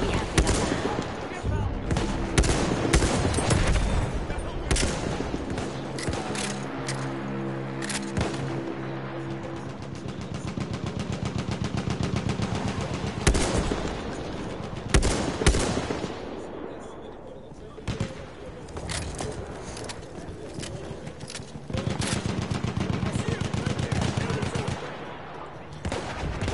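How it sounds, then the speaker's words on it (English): Rapid machine gun bursts mixed with heavier gunfire and booms in a World War I battle setting, loud and nearly continuous with dense overlapping shots, while voices speak over it. "Machine gun,"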